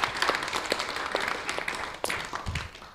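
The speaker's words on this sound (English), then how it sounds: "Let's give them a big round of applause." An audience at the ISKCON Dallas temple applauds volunteers, a dense, even patter of many hands clapping at moderate volume throughout.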